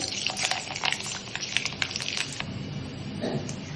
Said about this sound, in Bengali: কড়াইতে তেল বসিয়ে দিয়েছি, তেল গরম হয়ে গেছে। দিয়ে দিলাম শুকনো লঙ্কা ফোড়ন, অল্প একটু মেথি ফোড়ন।